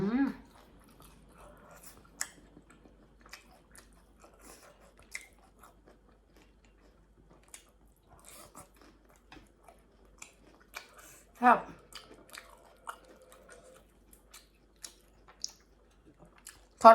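Crispy fried spring rolls are bitten and chewed, giving sparse, faint crunches and one louder crunch mid-way, with occasional quiet murmurs between bites.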